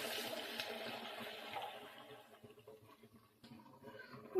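Water poured into a pan of lentil curry with egg, a soft, faint splashing trickle that fades out over a few seconds.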